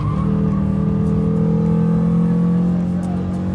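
A Renault Twingo RS lapping Castle Combe circuit at speed on a track day, its engine holding a loud, steady high-rev drone with rising harmonics, heard close from inside the car.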